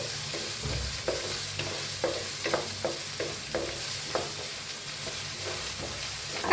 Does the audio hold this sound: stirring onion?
yes